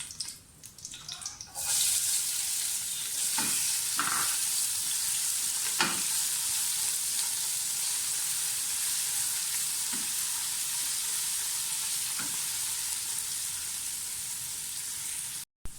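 Onions sautéing in a pan for green moong dal, a steady, fairly faint sizzle with a few scattered stirring clicks and scrapes, continuous throughout with no talk.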